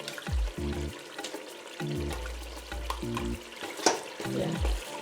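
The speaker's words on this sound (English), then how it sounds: "So now we are going to add the tomato paste." Tomato paste frying and sizzling in a pot for a Ghanaian turkey tomato stew, a steady close hiss broken by repeated scraping stirs and knocks, with no talking.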